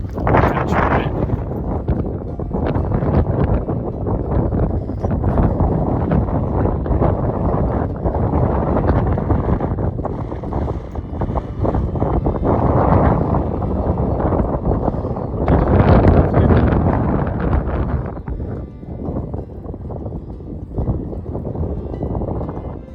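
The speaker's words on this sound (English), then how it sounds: "Been a little bit tricky trying to find somewhere out the wind. As you can probably hear, it's a bit drafty." Strong wind buffets a hillside wild campsite, a loud continuous roar with gusty surges that swell and ease throughout, heavy rumbling against the microphone and no clear voices.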